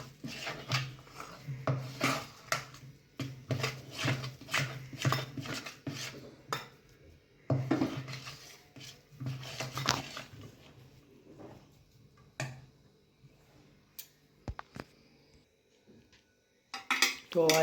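Sweet potato barfi mixture with cashews, almonds and cardamom powder being stirred in a pan, scraping and rubbing strokes in bursts, close and fairly quiet, followed by a few sharp clinks of utensils and a stretch of near silence.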